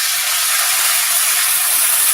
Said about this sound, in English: I'm going to add my garlic to the pan. It's going to sizzle.